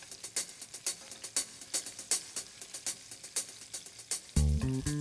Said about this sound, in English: the pan is hotter, so the sear is going faster